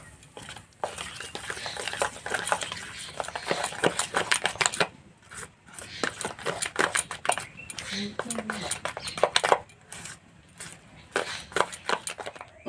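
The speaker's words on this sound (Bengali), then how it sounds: "এবার চাল মাখাতে দেবো স্বাদ মতো নুন, 1 চামচ বেকিং পাউডার, অল্প একটু জল দেব, ভালো করে মিশিয়ে নেব।" Rice flour being mixed with salt, baking powder and a little water in a bowl, heard as rapid close clicking and scraping strokes in bursts with brief pauses, alongside speech.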